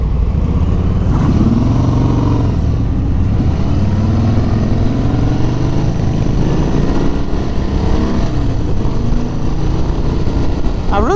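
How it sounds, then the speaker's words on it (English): A 2018 Harley-Davidson Sport Glide cruiser rumbles continuously on the road, its deep exhaust drone loud and steady with shifting engine tones and rushing wind noise throughout. "I really like the rumble of this, of the exhaust on this bike."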